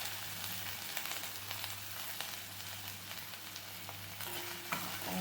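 Chopped onion and green chili frying in hot oil, a steady, faint close sizzle with small crackles and the scrape of stirring, and no talking.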